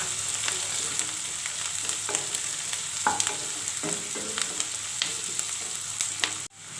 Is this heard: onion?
yes